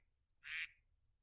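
The classic iPhone Duck ringtone plays a single short, bright digital quack, close and clean against a near-silent background.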